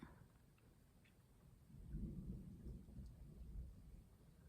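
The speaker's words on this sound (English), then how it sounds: "Okay, that's definitely thunder." Faint distant thunder rumbles low and swells partway through, with steady rain under it.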